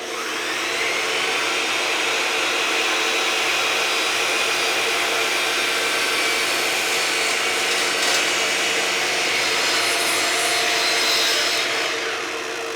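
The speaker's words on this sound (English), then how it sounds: "I've got that hooked up to my standard shop vac here" A chop saw cuts while a shop vac draws dust through a plastic shroud port; a loud, steady roar of motor and suction runs through the whole stretch with no speech.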